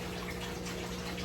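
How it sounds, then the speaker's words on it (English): Water draining steadily from a 150-gallon turtle tank during a water change, a continuous close rushing wash with a low hum underneath, no voices. "So basically, we'll let this tank finish draining"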